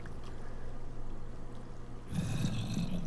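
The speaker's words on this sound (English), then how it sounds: "you can hear the water running" In Minecraft, water runs somewhere above, a faint low rushing that grows louder and brighter in the last second, with no talk.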